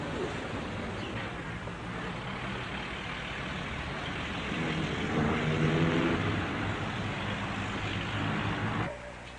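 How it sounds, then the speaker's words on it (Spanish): Street traffic in Lima, a broad steady wash of car and engine noise with a louder vehicle swelling past midway, fairly distant and continuous. "hay ruido de coches y hay palabras"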